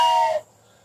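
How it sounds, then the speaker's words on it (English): A wooden train whistle gives a short, loud blow of about 0.4 seconds, a bright breathy chord of several tones that stops abruptly and leaves near silence. "That's a train whistle made out of wood."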